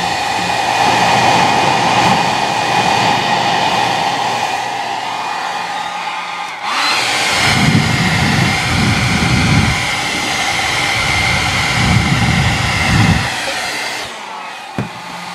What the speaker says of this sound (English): when I blow through it with my hair dryer